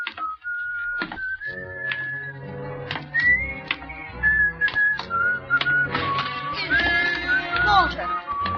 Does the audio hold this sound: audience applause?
no